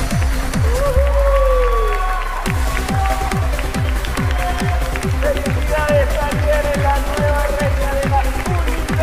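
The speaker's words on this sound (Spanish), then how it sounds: "¡Fuerte el aplauso!" An audience claps and cheers for a newly crowned queen at a pageant-style event, with steady rhythmic clapping throughout and a voice speaking over the crowd at the start.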